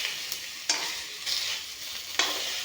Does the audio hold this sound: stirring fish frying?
yes